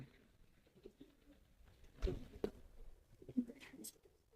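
Shiraji and Lahori pigeons at a pigeon sale give a few soft, brief coos scattered among low background noise, with a couple of sharper bursts near the middle.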